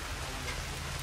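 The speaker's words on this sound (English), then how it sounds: "Rain, rain, nothing but rain." Steady rain in the video game Hitman 3 hisses evenly as a brief, uniform wash of falling water with no other sounds.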